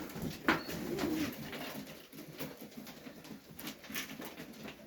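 Highflyer pigeons coo softly during a late-afternoon feeding, low murmuring calls amid light pattering and rustling nearby, no one speaking.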